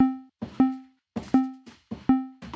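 Synthesized UI sound built from a sine-squared wave shaped by an envelope, playing as short, clean tonal blips with a quick snap, repeated in a steady pattern about four times, alone.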